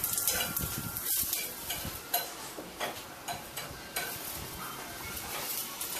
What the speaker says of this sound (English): So I put the fennel in a little corner, brown that up along with my garlic.